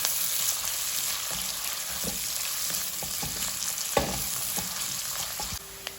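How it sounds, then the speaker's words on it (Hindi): Thinly sliced onions fry in hot oil for a Hyderabadi mutton dish, a continuous close sizzle with scattered spoon scrapes and taps as they are stirred. "फिर हम इसको अच्छे से प्याज को अच्छे से तेल में फ्राई करेंगे।"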